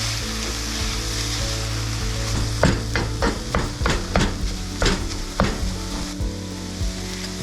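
Sausage and garlic browning in a pan, a steady sizzle under a run of sharp taps and scrapes as a utensil stirs and knocks against the pan, with a low hum beneath.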